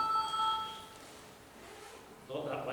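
A telephone rings with a short bright bell-like tone that fades after about a second, followed by a pause and then a person starting to speak.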